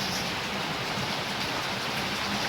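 Heavy rain pounds a hut roof in a steady, dense roar, close and loud throughout with no pauses or talk.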